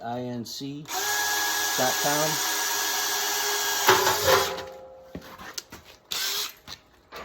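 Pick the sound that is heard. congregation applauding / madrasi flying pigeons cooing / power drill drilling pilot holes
power drill drilling pilot holes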